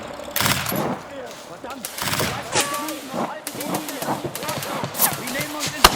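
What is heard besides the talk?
gunfire in a WWII war film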